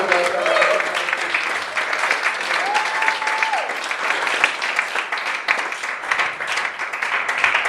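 Steady audience applause fills a comedy club at the close of a night of stand-up comics, dense and continuous clapping from a crowd throughout, with no talk over it.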